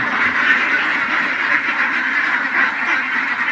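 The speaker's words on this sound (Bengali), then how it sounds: "রাজশাহী জেলায় হাজার হাজার বতক হাঁসের পাল" A huge flock of domestic ducks on a farm in Rajshahi district quacks in a dense, continuous chorus, many birds calling at once at a steady, fairly loud level.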